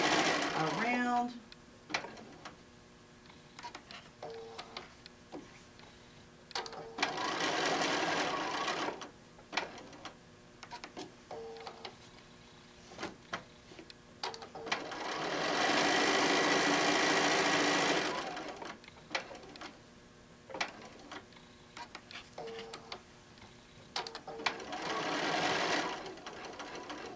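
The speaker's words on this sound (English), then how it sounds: "we're going to stitch" A sewing machine runs in several bursts of steady stitching through fabric for a wine bottle bag, with short backstitch runs, pauses between seams and a voice talking in between.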